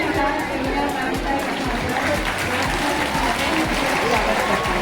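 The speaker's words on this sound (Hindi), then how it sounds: "जोरदार तालियों के साथ" Loud, dense applause from a crowd at a retirement function for a primary teacher, sustained without a break and mixed with a murmur of voices.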